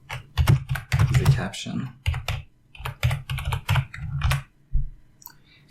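Rapid clicking of a computer keyboard as a caption is typed while building a WordPress site, bursts of keystrokes close and clear, with someone talking over them.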